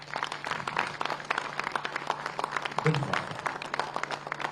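An audience at a city foundation-day ceremony applauds as a memento is presented to the mayor, a steady, moderately quiet patter of many hands with a brief voice cutting through midway.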